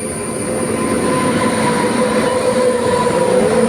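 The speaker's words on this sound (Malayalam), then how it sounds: "ഇതാ ട്രെയിൻ വരുന്നത് മറ്റേ ചരക്ക് വണ്ടിയാണ്" A freight train rumbles past nearby, a loud, steady roll of wagons with high metallic wheel squeal ringing over the low rumble.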